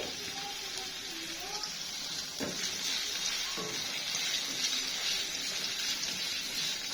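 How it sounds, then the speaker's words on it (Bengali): Garlic and onion fry in oil as a tempering for dal, giving a steady, fairly quiet hiss and sizzle throughout with faint clinks in the background. "এখন ডাল বাগারের জন্য রসুন আর পেঁয়াজ তেলে দিয়ে ভাজতে হবে"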